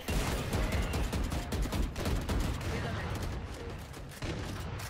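Rapid gunfire in the tactical shooter Valorant, with dense, loud bursts of shots cracking almost continuously across the whole stretch, giving a busy, sustained firefight texture.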